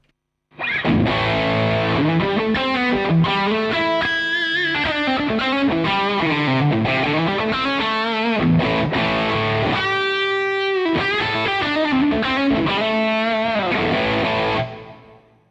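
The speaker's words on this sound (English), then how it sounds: "So if I bring in something like a tube screamer," An electric guitar through a Tube Screamer overdrive pedal into a Marshall JVM amp plays a melodic riff with sustained, gritty notes and bends, loud and continuous for about fourteen seconds before stopping.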